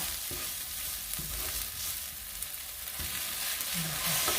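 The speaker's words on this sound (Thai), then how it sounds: "ผัดให้เข้ากันเลยค่ะ" Shrimp stir-fried with chili, salt, sugar and seasoning powder in a little oil, giving a steady close sizzle with intermittent scraping strokes of a spatula against the pan throughout.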